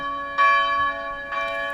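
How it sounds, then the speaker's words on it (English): An outdoor church bell close beside a church strikes twice, bright ringing tones swelling and decaying over a sustained hum. "So the bell, we're beside a church."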